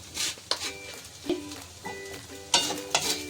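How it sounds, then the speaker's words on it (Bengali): Soybean chunks frying in a pan with turmeric and salt, a soft sizzle under intermittent scraping stirs and light clinks, close and moderately quiet with no talk. "ভালো করে ভেজে ভেজে নেব"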